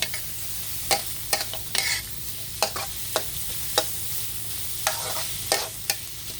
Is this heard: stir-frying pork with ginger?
yes